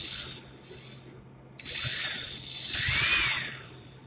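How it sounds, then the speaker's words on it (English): Cordless drill running in reverse, close and loud with a high whine in several short bursts of rising and falling speed separated by brief pauses. "I'm going to put my drill in reverse"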